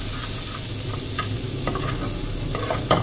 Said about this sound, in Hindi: अब इसमें हम ये लहसुन शामिल करेंगे।